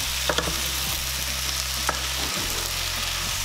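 Ham and potato soup base with onion powder being stirred in a hot pot: a continuous loud sizzle with a steady low hum and a few spoon scrapes, heard close up with no voices.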